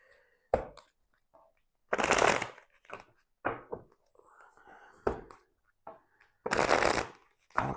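Tarot cards being shuffled by hand, several brisk riffling bursts and soft slaps close up, separated by short pauses, with faint quiet handling between.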